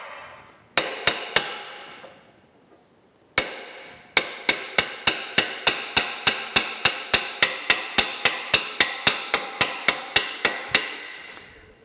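A hammer drives a bronze bushing out of a White Mountain ice cream churn, producing sharp metallic strikes: three at first, a pause, then a long fast steady run of about two dozen ringing blows, close and alone.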